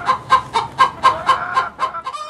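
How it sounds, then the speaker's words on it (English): A hen clucks loudly after laying an egg, about nine close, rhythmic clucks in a steady run, ending on a drawn-out call, with no talking. "After laying an egg, a hen will cluck loudly."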